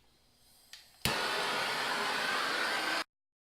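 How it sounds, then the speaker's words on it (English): Propane soldering torch heating copper pipe fittings on a water heater install, a steady loud roaring hiss that ignites abruptly and burns continuously for about two seconds before cutting off. "I'll show you how I solder this all together"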